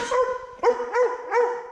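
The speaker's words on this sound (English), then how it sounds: "The dog will go mad." A dog barks three times in quick succession, loud and close, after a short whine, with no talking.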